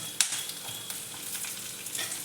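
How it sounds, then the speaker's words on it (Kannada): Spices for cowpea bassaru frying in oil, a steady crackling sizzle with occasional stirring scrapes and pops, close and continuous. "ಈ ಎಲ್ಲ ಐಟಮ್ಗಳನ್ನ ಸ್ವಲ್ಪ ಫ್ರೈ ಮಾಡ್ಕೋಬೇಕು ಎಣ್ಣೆಲಿ"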